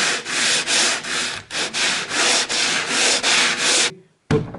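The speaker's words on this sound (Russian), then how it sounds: "Можно также при помощи этих сеток шлифовать деревянные поверхности." A wooden tabletop is sanded by hand with abrasive mesh on a mesh holder, giving loud, close rasping strokes in a steady back-and-forth rhythm with brief pauses, ending after a short gap with one last stroke.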